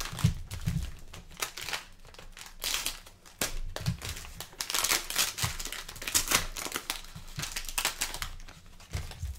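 A foil 2019-20 Optic basketball cello pack is torn open, its wrapper crinkling and rustling in close, irregular bursts throughout, with no talking.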